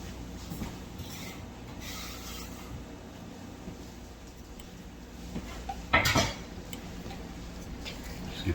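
Spoon stirring an enchilada mixture with water in a cooking pot, a soft continuous scraping with light clinks and one sharper knock of utensil against the pot partway through.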